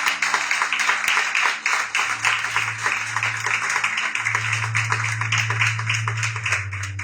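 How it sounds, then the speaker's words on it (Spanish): A church congregation in Medellín applauds during a service, with steady, even clapping running throughout and a low hum underneath. "Aplausos para que no sea aplaudido."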